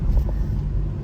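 A Porsche 718 Cayman with a 2-litre turbo engine running in sport mode, giving a steady low rumbling idle heard close up from the car for about a second, with no clear pops or bangs.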